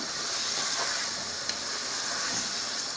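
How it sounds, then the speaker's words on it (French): Something fries in a pan while making red beans, a soft, even hiss of sizzling oil held at moderate volume with one tiny tap. "Je vais encore laisser frire un peu avant de le mélanger aux haricots"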